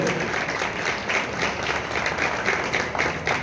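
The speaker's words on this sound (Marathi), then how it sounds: "टाळ्या होऊन दे, टाळ्या होऊन दे, जोरात टाळ्या होऊन दे" An audience at a bodybuilding contest in Phondaghat claps and applauds steadily, a dense crowd of hands sustained at full volume throughout.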